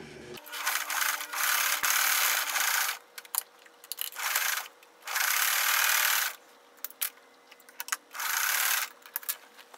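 A sewing machine runs in several sustained bursts, stitching a wide zigzag down a denim scrap patchwork block, each run a loud steady whir separated by short pauses with small handling noises.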